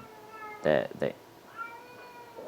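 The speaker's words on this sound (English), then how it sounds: "hold on, what is wrong with my cat?" A pet cat stuck in a cupboard lets out two loud, close meows in quick succession, then a softer drawn-out cry, against a quiet indoor room.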